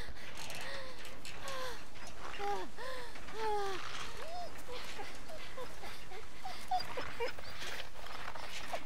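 A dog in The Walking Dead video game whimpers and yelps in a run of rising, whining cries over steady background noise, with a person talking at times.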